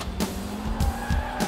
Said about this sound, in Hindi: हे, गाड़ी स्टार्ट करो.